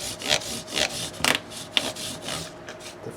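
Micro mesh sanding pad rubbed against the fret ends of an Ibanez S-Series guitar neck, a close series of soft, rhythmic scraping strokes, about six in a row with brief pauses between.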